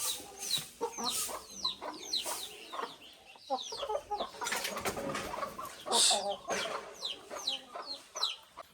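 Chickens and a rooster cluck repeatedly at close range on a Konkan farm in the morning, with steady overlapping calls and no one talking.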